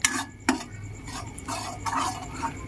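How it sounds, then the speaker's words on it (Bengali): Spoon stirring hot homemade hair oil in a pan to cool it, with a sharp metal clink near the start and soft scraping and swirling strokes throughout, close and moderately quiet, no voices. "এভাবে একটু নাড়াচাড়া করে ঠান্ডা করে নিতে হবে।"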